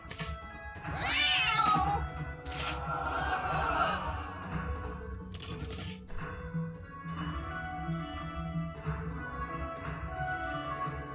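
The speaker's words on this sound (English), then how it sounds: "Finish it off with a throwing cat." A cartoonish cat meows and yowls in a Guild of Dungeoneering attack, fairly clear against a quiet game background with a soft thunk and faint in-game tones.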